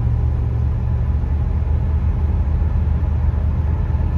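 A 1972 Mercury Marquis Brougham with added dual exhaust, heard from inside while driving on a main road at night: a steady, loud, low engine and road rumble with no breaks.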